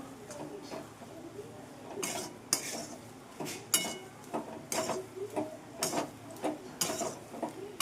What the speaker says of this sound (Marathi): मध्यम गॅसवर डाळ काढलेली सतत हलवत भाजून घेणार आहे तेल सुटेपर्यंत